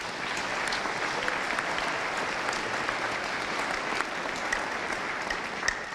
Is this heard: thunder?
no